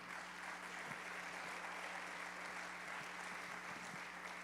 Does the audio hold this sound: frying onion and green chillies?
no